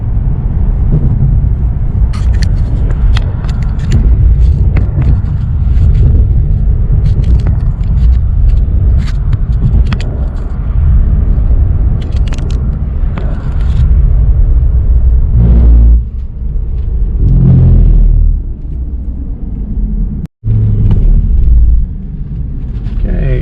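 Automatic base Nissan 370Z coupe accelerating hard from 0 to 60 with traction control on, heard from inside the car as a loud, deep engine rumble that rises through the gears, with short dips at the shifts.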